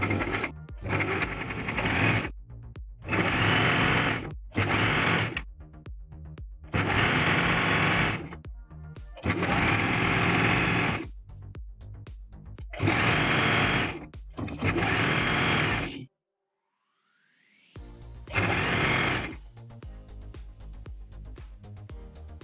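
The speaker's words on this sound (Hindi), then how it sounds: "अब हम स्टिच करते जाएंगे ऐसे, दोनों तरफ हम स्टिच करेंगे" A sewing machine stitches along both edges of scrunchie fabric in loud, steady runs of several seconds each, separated by short pauses, with a longer silent break near the end before one last burst.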